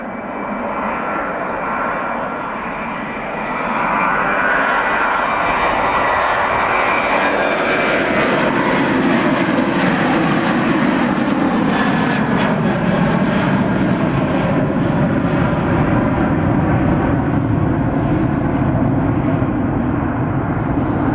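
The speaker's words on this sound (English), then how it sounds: "Right, here goes the Ryanair." A Ryanair jet airliner on a snowy runway at Riga International Airport in freezing weather gives off a loud, steady engine roar that swells after a few seconds and holds strong to the end, with no talking.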